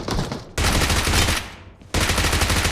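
Automatic gunfire from the mobile shooter BGMI rattles in loud rapid bursts, one short burst, then a long sustained spray, a fading gap, and another burst at the end.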